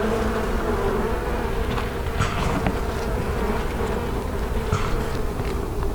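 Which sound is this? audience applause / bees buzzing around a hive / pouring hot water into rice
bees buzzing around a hive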